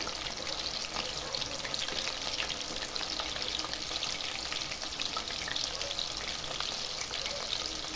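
Chicken pieces sauté Bengali style in a wide pan over a high flame, giving a continuous, even, dense frying sizzle throughout with no talk.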